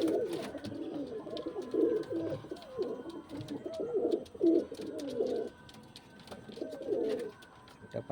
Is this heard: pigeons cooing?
yes